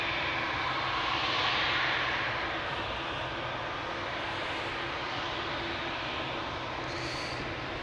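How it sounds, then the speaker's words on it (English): A KLM Boeing 787-10 Dreamliner jet, flight 691 to Toronto, at Amsterdam Schiphol Airport, gives a steady, broad engine roar that swells slightly early on and then holds evenly at a moderate distance, with no talking. "Another Dreamliner, this is KLM flight 691 to Toronto, Canada. It is a 787-10."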